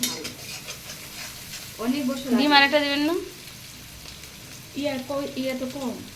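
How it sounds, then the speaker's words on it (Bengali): Snake gourd frying in a wok on a rainy day, a constant soft sizzle with stirring scrapes, while two short stretches of voices talk over it. "ভাবি চিচিঙ্গা ভাজি করতেছে"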